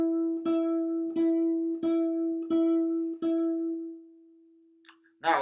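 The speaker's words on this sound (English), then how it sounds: "I can add some vibrato to it, so it will sound like this." A fretted guitar note is picked five times in an even rhythm and then left to ring, sustaining with vibrato as it slowly fades, followed by a brief different sound at the very end.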